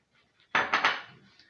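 Chunks of beetroot drop into a blender jar with a quick clatter of a few hard knocks, close and fairly loud, then fade out.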